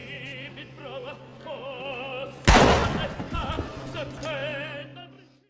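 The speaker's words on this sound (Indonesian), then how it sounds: "Chris lalu mengeluarkan senjatanya dan langsung menembak si nenek" A single loud gunshot cracks out from the film Match Point, with Chris shooting an elderly woman in her apartment, bursting sharply over quiet background music and leaving a lingering decay.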